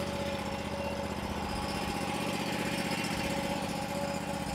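The engine of an SWC 100 portable sidewall cutter idles at a steady, even drone with a constant fine vibration, moderately loud and unchanging throughout, with no voices over it.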